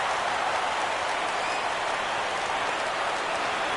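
Baseball stadium crowd rising and cheering on a full 3-2 count, a dense, steady roar of applause and voices filling the whole stretch at a distance.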